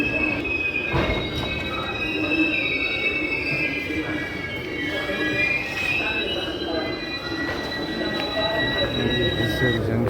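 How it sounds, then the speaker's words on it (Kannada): A passenger train pulls in and slows to a stop at the platform of Mysore Junction railway station, its wheels letting out loud, continuous high-pitched squeals over a steady rumble and clatter, close by. "ಟ್ರೈನ್ ಇನ್ನೇನು ಸ್ಟಾಪ್ ಆಗ್ತಾ ಇದೆ."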